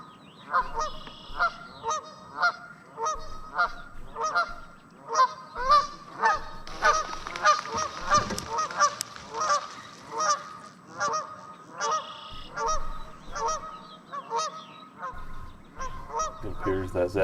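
Geese honk repeatedly at a fishing spot, a loud, rhythmic chorus of nasal calls overlapping one another through the whole stretch with brief pauses, close and unaccompanied by talk.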